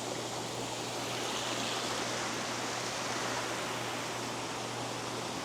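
Flowing water of an urban waterfall, a dense even hiss and rush heard close and steady with no breaks and no talking over it.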